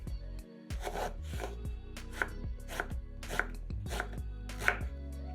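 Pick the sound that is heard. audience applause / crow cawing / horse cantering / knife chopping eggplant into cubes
knife chopping eggplant into cubes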